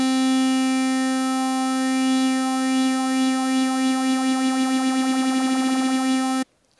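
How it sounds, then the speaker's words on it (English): A sustained synth tone from the Massive synthesizer runs through a phaser effect set to a low rate, its harmonics slowly sweeping in a rippling, accelerating shimmer before cutting off abruptly near the end. "So with rate turned down, it's going to sound like this."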